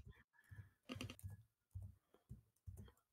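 Keys clack on a keyboard in short, irregular bursts of typing with brief pauses between them, close and fairly quiet.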